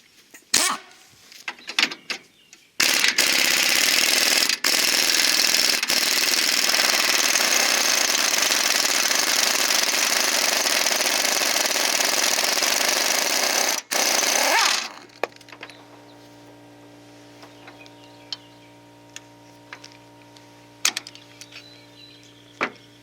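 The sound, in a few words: impact wrench removing trailer jack bolt, socket flying off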